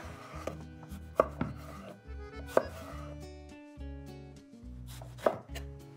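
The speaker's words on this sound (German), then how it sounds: "Die beginne ich jetzt in haselnussgroße Stück zu schneiden." A knife chops eggplant into hazelnut-sized pieces on a board, with close, irregular thuds and sharp strikes over quiet background music.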